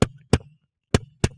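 Four beatboxed kick drum hits made with the lips, imitating a kit's floor kick drum, land close and punchy in two pairs with a pause between them.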